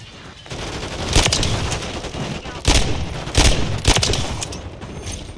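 Gunfire in Call of Duty: Modern Warfare III on a small map, with loud rapid bursts and several sharp shots in quick succession over a busy game background.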